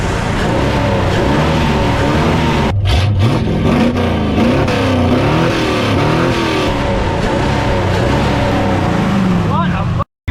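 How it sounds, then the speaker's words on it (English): The V8 engine of a circa-1978 Ford F-350 truck revs hard and repeatedly to about 5500 rpm, rising and falling in pitch, loud and close, with brief dropouts before cutting off. "you don't beat the sound of a dirty old Ferd V8 singing at 5500"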